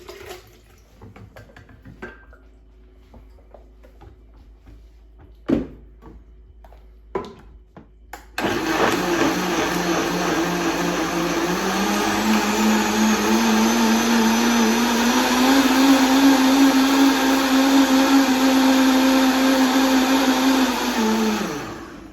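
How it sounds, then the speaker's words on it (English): Blender purees cooked chiles into pozole sauce, starting after a few quiet clicks and knocks with a loud, steady whir that climbs slightly in pitch and runs for about fourteen seconds, close and alone. "We're going to make our sauce, and we're going to put it in the blender."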